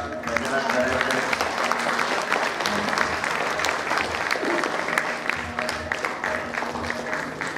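Students applauding in a school hall during a reunion get-together, sustained dense clapping with a crowd murmur and voices underneath throughout.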